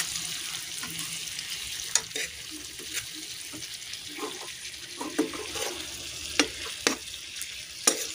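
Soft, steady sizzling of chillies frying in a pan, with occasional sharp pops and crackles standing out from the hiss.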